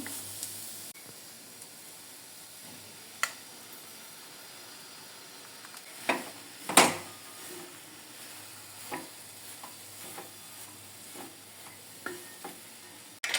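Puffed rice stirred into a cooked coconut mixture in a pan for uggani, a faint steady hiss broken by a few sharp scrapes and clinks, quiet and close with no voices.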